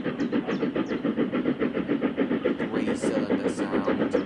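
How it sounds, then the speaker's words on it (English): A three-cylinder engine runs steadily close by, with a loud, even, throbbing hum that pulses rapidly throughout. "3-cylinder sound."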